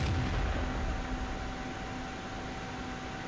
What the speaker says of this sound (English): he hits me with a high explosive shell